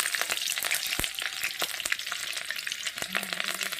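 Whole cumin seeds with dried and green chilies frying in hot oil, a loud, close crackling sizzle with sharp pops and stirring scrapes throughout, no talk.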